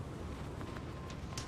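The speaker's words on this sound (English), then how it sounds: "Winds are gusting to 60 miles an hour." Strong gusting wind roars across a high mountain in brutal cold, a steady, loud broadband rush with brief sharper gust peaks and no voices.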